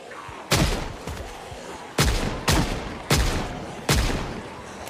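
Revolver and pistol gunshots ring out in the zombie survival game Project Zomboid, five or six sharp, booming shots spaced roughly half a second to a second apart, each trailing off in a short echo.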